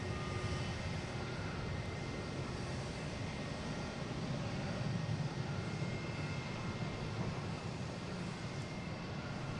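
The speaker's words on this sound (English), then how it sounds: "Do have the American Airlines landing on 4 left." Steady broadband roar of airliners at Boston Logan International Airport, continuous and fairly loud throughout with no voices, like jet engines running near the runway ends.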